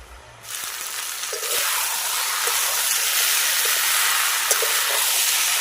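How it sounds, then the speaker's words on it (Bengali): Pre-fried vegetables and greens for a Bengali tita dish sautéing in a hot pan, a loud steady sizzle that starts suddenly and carries on evenly, with faint stirring taps and no speech. "এবার তিন থেকে চার মিনিট মতন সময় ধরে কষিয়ে নেব"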